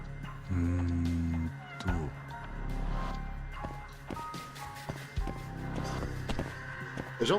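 A cat meows in the Judgment video game, short meows mixed with game effects, footsteps and music, with a person talking over much of it.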